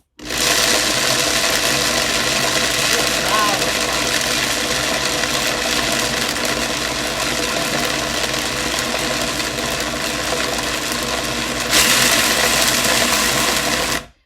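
A stone grinder grinding pistachios into butter runs on its lowest setting with a steady, dense mechanical whirr and rasp, loud and close, holding constant for the whole stretch.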